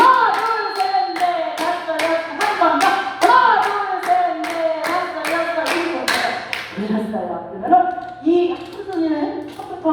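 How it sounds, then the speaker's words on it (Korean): A group of elderly participants in a laughter exercise class clap their hands in unison with bands looped around their necks, a string of sharp, evenly spaced claps under a voice talking and calling along. "박수를 여덟 번 쳐볼 게요 시작!"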